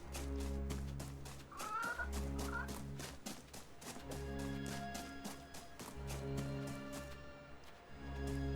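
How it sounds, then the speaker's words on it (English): A chicken gives off a few short clucks and squawks in a game setting where a village lies nearby. The calls sit faintly over a loud, steady musical backdrop with a rhythmic low pulse that plays throughout. "Chicken's making all sorts of noise."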